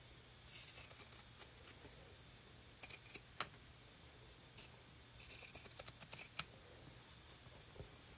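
Scissors cutting out fabric leaves for a pumpkin photo holder craft: faint, sparse snips and small clicks in short irregular bursts, close by in a quiet room.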